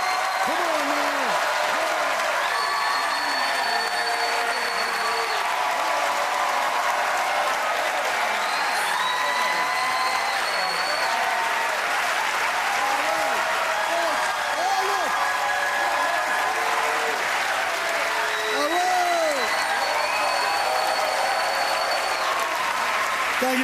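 A comedy club crowd gives stand-up comedians a standing ovation, dense continuous applause sustained for over twenty seconds with scattered whistles and shouts mixed in.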